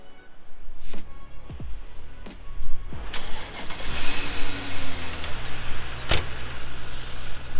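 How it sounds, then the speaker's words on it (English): BMW 330 car engine cranking and catching in a New York snowstorm, preceded by a few sharp clicks and door sounds, then settling into a steady close idle as it warms up, with no talking. "I'm gonna fire up the car, let it warm up for a little bit."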